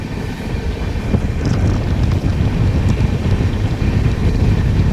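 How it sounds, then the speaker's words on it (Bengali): A moving train on a winding track gives a loud, heavy, continuous low rumble with wind buffeting, heard from on board. "এখানে টোটাল ট্রেনটাই এরকম দিকে দিকে ঘুরে ঘুরে চলতে থাকে"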